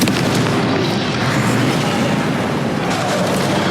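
A Confringo blasting spell explodes in Hogwarts Legacy, a sustained, loud roaring burst of fiery noise with rumbling low end that fills the whole moment without pause.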